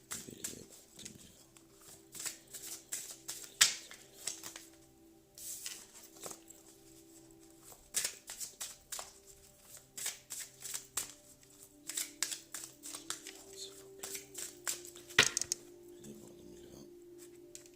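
Oracle cards shuffled at close range in a long run of papery flutters and soft slaps, with irregular bursts and brief pauses in between, and almost no talking.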